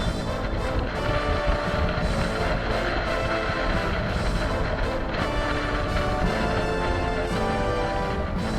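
A boat motors across open water toward an island, its engine drone and rushing water forming a loud, steady wash with light wind buffeting and no talk.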